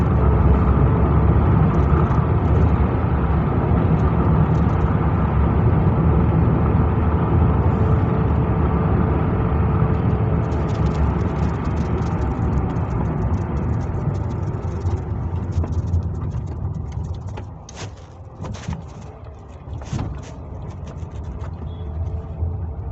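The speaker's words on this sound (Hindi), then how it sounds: "अभी मैं 50 की स्पीड में आ गया हूँ और ट्रैफिक आगे मेरे को खाली दिख रहा है, तो मैं एक्सीलेटर प्रेस कर रहा हूँ और मैं 4th गियर में ही हूँ फिलहाल" Car engine accelerating in 4th gear at about 50 km/h on a road with traffic ahead, a steady broadband drone that stays loud throughout, thinning slightly near the end with faint higher road noise.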